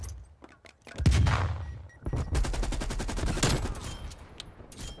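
Automatic gunfire in Call of Duty Black Ops Cold War, a few scattered shots before loud, dense bursts of rapid fire that run almost continuously, close and sharp.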